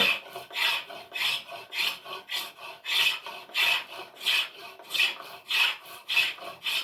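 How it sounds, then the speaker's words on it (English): A handmade John Krause spokeshave with a hardened blade shaves wood on a handmade chair part: a steady run of about fourteen rasping strokes in even rhythm, close and clear, with no speech. "This spokeshave I'm using was, handmade basically by John Krause."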